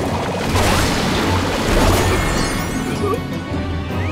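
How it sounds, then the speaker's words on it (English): A chocobo in Final Fantasy XIV kicks a zombie in the face, landing loud crashing, thudding game impacts that pile up in a dense, continuous clatter with no voices over them. "By my chocobo smashing you in the face with his foot."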